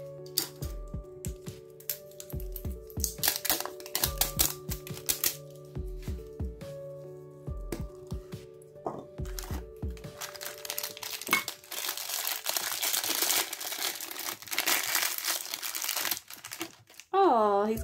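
Plastic packaging crinkles and tears as a Disney Stitch toy is unwrapped, close and busy, with bursts of rustling that grow denser and louder toward the end, heard alongside a person's speech.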